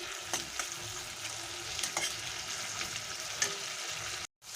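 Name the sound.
tomato being stirred and mixed in a pan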